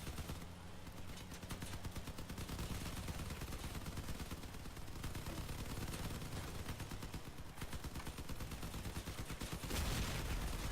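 Machine guns fire in Crossout, a vehicle combat video game, as a continuous rapid, dense rattle of shots lasting the whole stretch at a steady, loud level.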